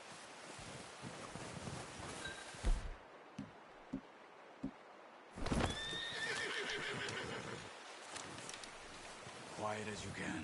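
A horse in the Red Dead Redemption 2 video game whinnies loudly and clops its hooves outdoors, with wind noise and a few sharp knocks breaking up the calls.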